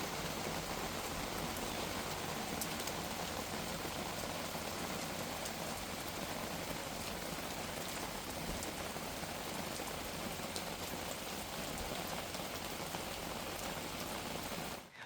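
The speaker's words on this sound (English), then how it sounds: "now the rain is really starting to come down" Steady rain pours down at a campsite in an Ontario provincial park, a dense, even hiss of drops on surfaces that holds constant and fairly close, with no talking.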